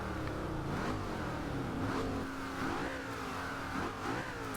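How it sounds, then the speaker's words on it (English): Noble M600 from 2010, its twin-turbo V8 revving repeatedly in Forza Horizon 2, a steady loud drone rising and falling in several rev sweeps with no talk over it. "Yup, that's a good sounding V8."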